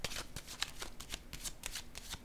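Tarot cards being handled on a table, a quick run of close, soft papery flicks and slaps in irregular rhythm, fairly quiet, like cards shuffled and then set down.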